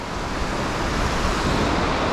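Ocean waves break on a beach in Morocco, a loud, steady broadband wash of surf and rushing water close by, with no voices over it.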